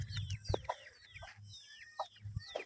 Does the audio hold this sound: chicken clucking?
yes